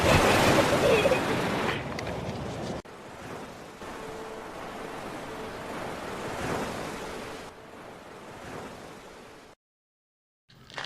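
Ocean waves washing onto a beach shore, a loud surging rush that eases into a steady broadband wash with wind, fading out near the end.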